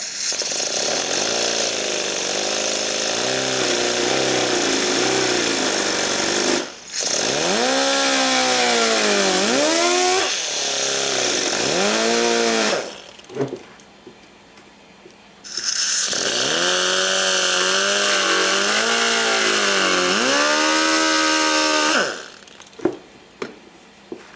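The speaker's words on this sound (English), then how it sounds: "Got myself a deburring tool. I'm gonna see if I can't clean this up, make a little relief cut." A deburring tool cuts a relief in a part from a Kawasaki KLT 200C. Loud, whining power-tool runs go on for several seconds at a time, with the pitch wavering under load and brief pauses between passes.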